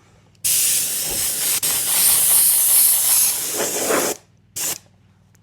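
Fluorescent orange spray paint hisses from an aerosol can onto an RC car body, one long close burst of about four seconds followed by a brief short spurt.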